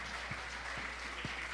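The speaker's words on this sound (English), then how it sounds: "Big round of applause for all that worked on this" A congregation in a new church sanctuary claps in a faint, even wash of applause at a distance, with a few soft thuds underneath.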